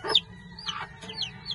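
A hen clucks in short repeated calls beside a pen of tanks holding chicks a few days old, her voice close and clear with a low hum underneath and no talking.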